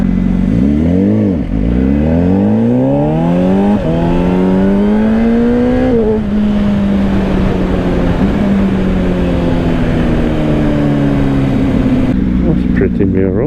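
A 2025 Honda CBR600RR sport bike pulling uphill on a road, loud close engine climbing through the revs in rising sweeps, with gear changes and wind noise throughout.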